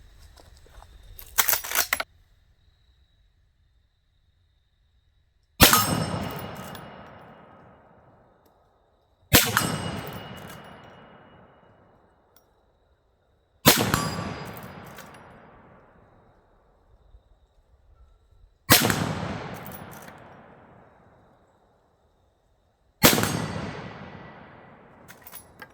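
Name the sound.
Henry steel lever action 360 Buckhammer rifle shooting steel targets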